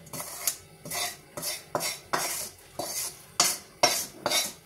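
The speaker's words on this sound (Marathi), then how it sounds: "तर आता मी ताटात काढून घेते खोबरं" Roasted coconut scraped out of a pan onto a plate, a series of regular metallic scrapes and clinks about every half second, close and distinct, no voices.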